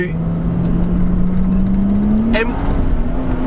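A BMW M135i pulling hard in fourth gear on a cold road, its engine tone rising smoothly and loudly from inside the cabin, with a brief shift-like blip partway through and steady road roar underneath.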